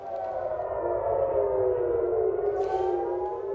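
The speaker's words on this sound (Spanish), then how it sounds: "Esta mañana las sirenas sonaron en Tel Aviv durante el más reciente procedimiento para interceptar misiles y drones procedentes de Irán" Air raid sirens wail across Tel Aviv during an Iranian missile and drone attack, a long sustained rising-and-falling tone heard from a distance, alone with no talk.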